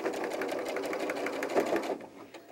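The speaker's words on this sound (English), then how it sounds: "I'm only going to sew between these two pins, straight across, back stitch at the beginning and the end" A sewing machine stitches straight across a doll backpack strap with a back stitch at each end, a close, steady rapid whir with even rhythmic needle pulses that slows and stops near the end.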